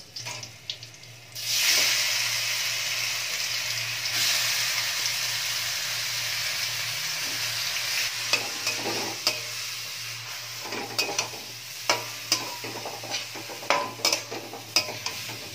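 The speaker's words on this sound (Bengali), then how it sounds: "চাল কুমড়োটা বেশ ভালো করে এরম ভাবে গ্রেটারের সাহায্যে আমি একটু ঘিষে নিয়েছি। এবার এটা তেলে দিয়ে দেবো" Grated ash gourd drops into hot oil with a sudden loud hiss, then fries in a steady sizzle while a spatula stirs it, its scraping strokes growing sharper and more frequent toward the end.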